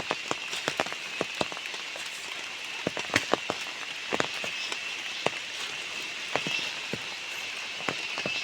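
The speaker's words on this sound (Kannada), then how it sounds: "ಮಳೆ ಬರ್ತಾ ಇದೆ" Rain falls on a plantation: a constant soft patter with scattered sharp, louder drops striking close by, uneven in rhythm.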